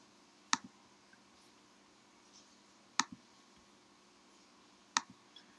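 Three sharp computer mouse clicks, spaced about two to three seconds apart, each crisp and close in an otherwise quiet room.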